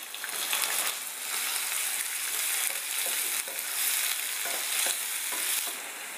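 Green chillies and onion fry in hot oil for soya bhurji, giving a steady, close, loud sizzle with faint crackles and occasional stirring scrapes throughout.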